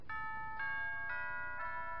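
A two-note ding-dong chime jingle from the Pokémon Ultra Sun video game, bright bell-like tones sounding clearly in four quick strikes over a soft background.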